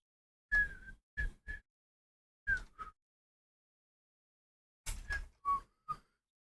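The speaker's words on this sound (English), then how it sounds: "Why am I whistling? I don't whistle that loud." Several short, faint whistled notes come in small separate bursts with silent gaps between them, soft and close by.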